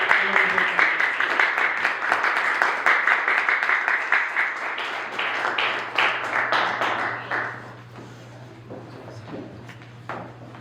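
A church congregation claps together at a Pentecostal Sunday prayer service: a dense, steady wash of applause that holds for several seconds, then thins and fades to scattered claps.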